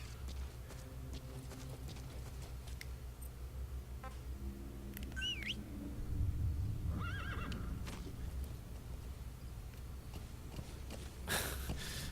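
A horse in the video game Metal Gear Solid V: The Phantom Pain whinnies and snorts over a low ambient rumble, with soft hoof steps and faint bird-like chirps in the background.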